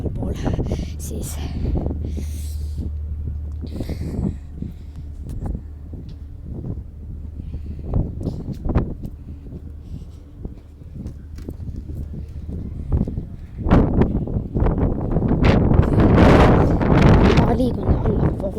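Wind gusting outdoors on an elevated spot by the sea near a small island with a lighthouse, a steady rumbling buffet across the microphone that swells louder toward the end, with footsteps and a person talking over it.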